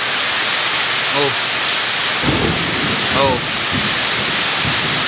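Heavy rain pours in a loud, dense hiss with rushing water beneath, while a voice briefly exclaims over it a few times.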